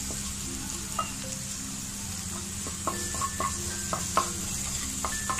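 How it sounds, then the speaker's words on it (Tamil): Grated ginger and garlic sautéing with onions in a pan for samosa filling: a steady close sizzle runs throughout, with scattered stirring clicks and scrapes, loudest near the end. "நான் இஞ்சியும் பூண்டு நல்லா வதக்கிட்டேன்"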